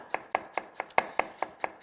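A knife strikes a cutting board mincing ginger in quick, regular chops, about ten crisp taps in under two seconds, close and clear with no talking.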